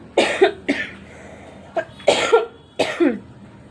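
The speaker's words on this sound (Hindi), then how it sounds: "कल रात से खांसी भी होने लग गई है फिर से।" Someone coughs several times in close, harsh bursts, some in quick pairs, with short pauses between.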